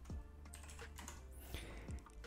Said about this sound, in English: Now here in search bar, I'm going to type